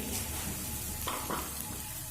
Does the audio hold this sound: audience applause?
no